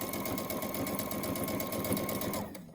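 A sewing machine stitches fabric for a tartan wreath, a fast even mechanical chatter running steadily and fairly close before stopping abruptly near the end.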